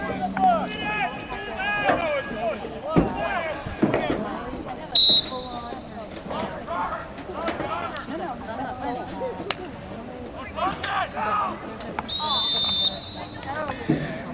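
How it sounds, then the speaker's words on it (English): A referee's whistle gives two short, shrill blasts, several seconds apart, over ongoing talk and outdoor crowd noise at a freshman high school football game, signaling a motion penalty. "And we have a whistle."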